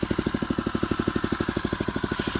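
A Lifan 3hp gasoline engine idles close by with a fast, even chugging pulse around 1100 RPM, steady and loud, with no voices.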